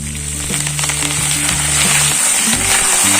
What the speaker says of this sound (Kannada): ಈಗಿದು ಇದ್ರಾಗೆ ಸ್ವಲ್ಪ ಕರಿಬೇವನ್ನು ಹಾಕ್ಬಿಡೋಣ